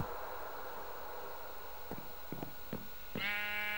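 Soft thuds and a low background hiss in the video game Minecraft, then a single clear sheep bleat near the end.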